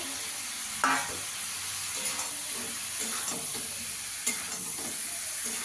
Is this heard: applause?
no